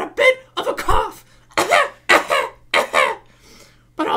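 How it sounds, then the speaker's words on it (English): A person coughs repeatedly in harsh, raspy bursts, close to the listener, with brief pauses between the fits. "I've got a bit of a cough."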